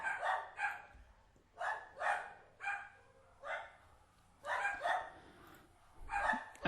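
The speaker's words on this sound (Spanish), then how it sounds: "Aquí los vecinos tenemos unos perritos que nos suelen interrumpir" Several neighbors' small dogs bark in repeated bursts, a string of distant, fairly faint yaps coming in irregular clusters with short quiet gaps.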